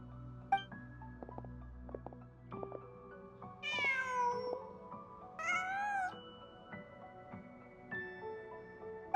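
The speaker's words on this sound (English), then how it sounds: "Huh. Just a cat." A cat meows several times in the video game Genshin Impact, with two clear, drawn-out meows over quiet ambient game sounds and soft music.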